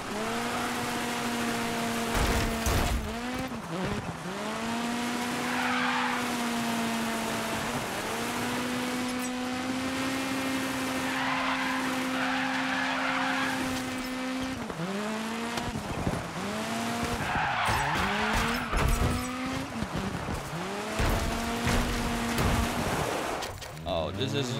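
A car drifts around a Dirt 5 drift course, its engine revving in long rising and falling whines as the tires squeal and skid. The sound is loud and continuous throughout.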